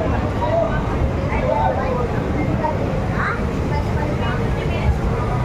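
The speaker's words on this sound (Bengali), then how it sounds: "ছেড়ে বেরিয়ে যাচ্ছে দীঘা স্টেশন থেকে আমাদের ট্রেন" A night train pulling out of Digha station, a steady low rumble and rattle of the carriages heard from inside, with faint squeals and a voice talking over it.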